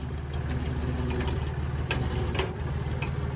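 A forklift engine runs with its throttle raised on a farm, a steady loud low rumble with a continuous drone and faint mechanical ticks, no voices over it.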